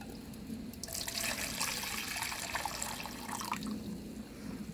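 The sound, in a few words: hot water poured out of a solar sun kettle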